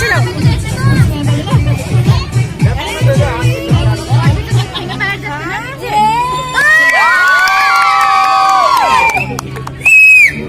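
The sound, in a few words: crowd whistling and cheering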